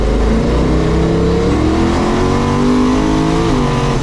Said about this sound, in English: No, that's just wastegate, no CO2.